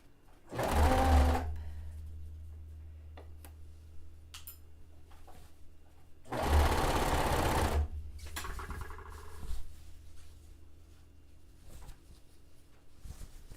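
Sewing machine stitching the side seams of a dress made from bed sheets, with two loud, fast bursts of whirring stitching separated by quieter handling noises and a low hum.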